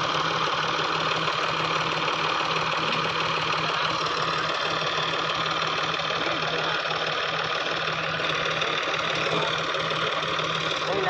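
A diesel Massey tractor engine idles close by in a steady, loud, rumbling drone with a rhythmic knock, its tyres sunk in the ground, continuing unchanged throughout.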